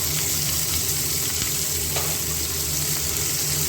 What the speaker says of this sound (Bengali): পেঁয়াজটা কুচো করে পেঁয়াজটা একটু ভাজা ভাজা হলে রসুনগুলো গোটা গোটা দেবো।